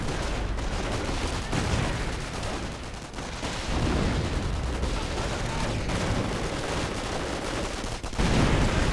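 Grenades bursting left and right in a 2v2 video game battle involving a Panzerbrigade, heard as a dense, continuous barrage of explosions and gunfire-like cracks that stays loud throughout without pause and with no voices.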